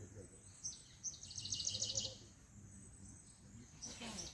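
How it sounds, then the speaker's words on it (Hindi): In a dense forest at Chitrakoot, insects trill and a bird chirps in a short, quick burst, faint and distant over low background hum. "पक्षियों की आवाज़ बिल्कुल स्पष्ट सुनाई देती है इस भयंकर जंगल में।"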